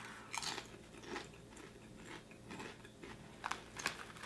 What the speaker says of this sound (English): And the chips are very crispy,